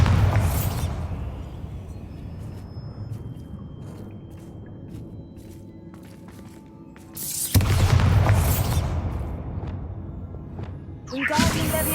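A Bombarda spell goes off in Hogwarts Legacy, bursting with a loud booming whoosh at the start, a second heavy blast around the middle, and a third rising near the end.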